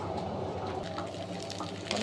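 Soft, continuous running and splashing of water while fresh greens are washed in a home kitchen, steady and close, with a slight clatter near the end.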